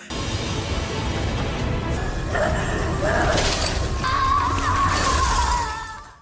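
An animated body cracks and shatters, a loud dense crumbling rush with sharp breaking bursts and ringing debris layered over a low rumble, building then fading out.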